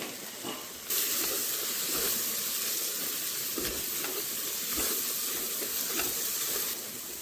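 Masala with chili powder frying in hot oil in a pan, a steady soft sizzle and hiss that swells after a second and holds evenly, with faint stirring scrapes.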